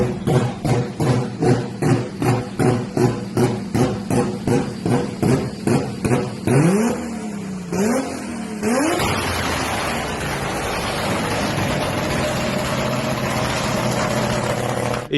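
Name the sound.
BMW drift car engine with anti-lag activated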